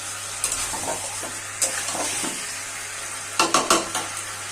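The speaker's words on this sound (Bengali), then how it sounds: "মশলা দিয়ে ভালো করে নাড়াচাড়া করে নেব" Chicken pieces frying with spices in a pan, a steady sizzle punctuated by scraping stirs of a spoon against the pan, with a cluster of louder clanks near the end.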